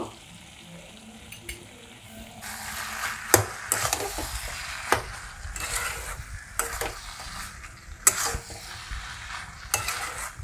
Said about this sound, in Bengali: খুন্তি দিয়ে একটু ঘেঁটে ঘেঁটে দেবেন।